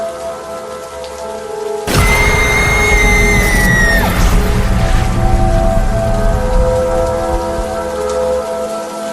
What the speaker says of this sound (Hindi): इतनी तेज बारिश और गरजते हुए बादलों के बीच